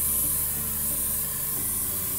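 A spray tan gun sprays tanning solution in a steady, loud, continuous hiss that holds unbroken throughout, with no talking over it.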